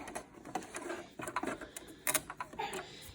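A sewing machine stitching a fabric face mask, its needle chattering in short, quick bursts with brief pauses between runs, fairly close and alone.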